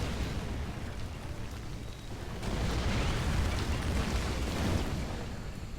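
Artillery fire in the real-time strategy game Rise of the Reds: a dense, continuous rumble of distant explosions and booms that thickens midway into a sustained, crackling barrage.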